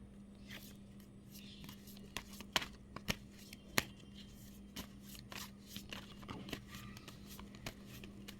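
Tarot cards are shuffled and handled, giving faint, close papery riffles and sharp flicks in irregular bursts over a quiet room hum.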